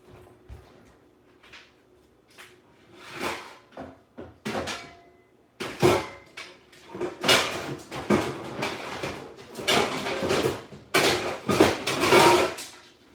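A home cook pulls a rarely used baking pan out of a kitchen cupboard, with several clattering knocks and bangs of metal and cupboard wood, growing busier and louder toward the end.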